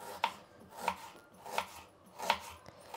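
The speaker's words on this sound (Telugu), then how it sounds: "ఇప్పుడు ఆలుగడ్డ పల్యాకి ఎర్రగడ్డ కట్ చేసుకుందాము" A knife chops an onion lengthwise on a board for potato curry, four evenly spaced, crisp cuts at a steady rhythm, close and fairly quiet with no voices.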